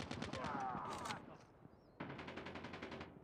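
Call of Duty gameplay gunfire: two rapid machine-gun bursts, close and loud, with a short gap between them.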